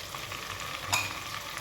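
Chopped tomato frying with ginger, garlic and green chili hisses faintly in a pan, with a single brief metallic clink of a utensil near the middle of the clip; nobody speaks.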